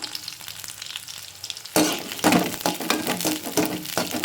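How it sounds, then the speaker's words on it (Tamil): Garlic sizzles loudly in hot oil after a quieter start, with stirring scrapes and occasional utensil clinks against the pan, while cooking a Tamil-style pulli vala fish recipe. "அடுத்து வெள்ளைப்பூடை போட்டு லைட்டாக கிண்டி விட்டுருவோம்."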